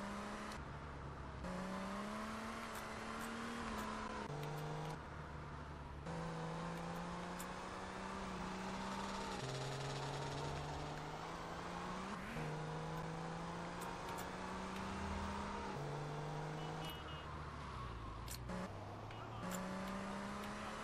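A car is driven in GTA Liberty City Stories, its engine note rising and falling through repeated gear shifts and revs, loud and continuous, with brief dips between accelerations.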